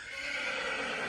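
A mare neighing nearby in a rural yard, one sustained, fairly loud whinny lasting the whole moment, with no talk.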